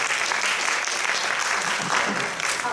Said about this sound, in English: Give a big applause to Dr. Chang and also Dr. Taiwan.